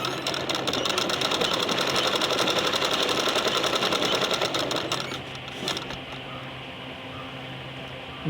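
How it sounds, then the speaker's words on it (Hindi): A sewing machine runs steadily for about five seconds, sewing a side seam on fabric in a fast, even whir of stitches, then stops and leaves a quiet room. "इस साइड में हमें मारनी है लब की सिलाई"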